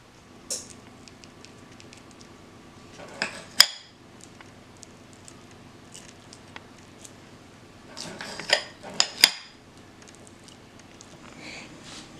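A meat mixture is spooned into small cups, giving scattered clinks and scrapes of utensil on dishes in a few short clusters, with quiet pauses between them and no talk.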